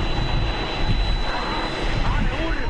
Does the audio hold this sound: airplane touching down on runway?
yes